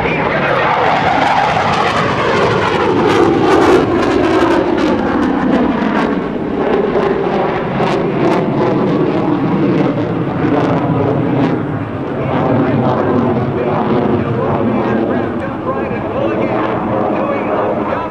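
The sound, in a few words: F/A-18C Hornet jet flying an Immelmann half loop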